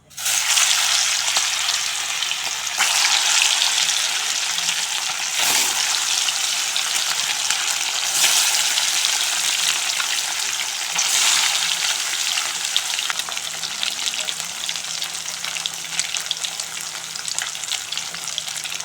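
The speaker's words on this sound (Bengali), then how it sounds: "তেল গরম হয়ে গেছে এবার মাছ দিয়ে দেবো" Rohu fish pieces rubbed with turmeric and salt fry in hot oil in a wok, a loud, continuous crackling sizzle close by with a few brief louder spurts, and no talking.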